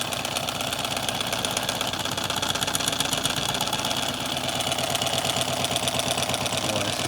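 A homemade Stirling engine on its first test run gives a steady, fast mechanical chatter with a continuous rhythmic knocking, close and fairly loud, running alone without talk.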